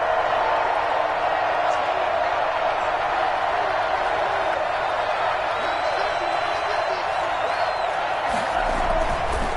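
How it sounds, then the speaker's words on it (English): A dense stadium crowd at an NFL football game roars continuously throughout, a loud, sustained wash of cheering that never drops away. "this crowd's going to get even louder"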